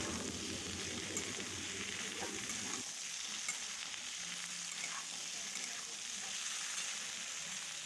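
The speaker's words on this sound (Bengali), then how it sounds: "সব কিছু খুব ভালোভাবে নাড়াচাড়া করে ভেজে নিতে" Pumpkin and chopped onion fry in a pan, making a steady, close crackling sizzle with stirring scrapes throughout and a low bubbling undertone that fades partway through.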